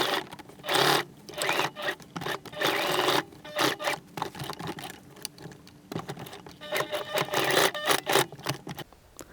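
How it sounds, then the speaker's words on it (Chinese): Sewing machine running a straight seam along a marked line on denim jeans: loud close bursts of rapid mechanical stitching that stop and restart several times. "所以就沿着刚刚标记的线缝一条平针"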